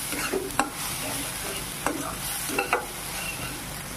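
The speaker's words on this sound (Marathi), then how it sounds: "हा मसाला ना तेलावर चांगला परतून घ्यायचा।" Ground masala with turmeric sizzles in hot oil while a spoon stirs it, giving a few scraping knocks. The sound is close and steady, with no talking.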